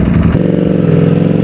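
A Streetfighter sports motorcycle engine idles loud and close with a deep, throbbing, steady pulse and a slight rev change early on.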